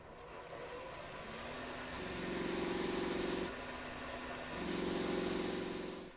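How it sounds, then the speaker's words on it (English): New sharpening wheel on a carving tool sharpening system being trued with used 180 grit 3M purple sandpaper, a steady motor whine with two separate bursts of harsh abrasive rasping as the paper is pressed against the spinning wheel. "take this brand new wheel and I'm going to true it up a little bit. I've got a piece of somewhat used 180 grit 3M purple sandpaper."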